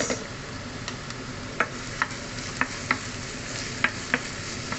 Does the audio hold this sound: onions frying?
yes